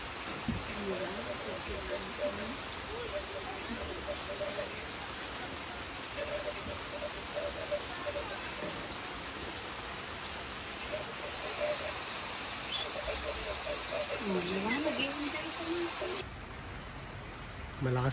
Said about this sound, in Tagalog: Malakas pa din ang ulan.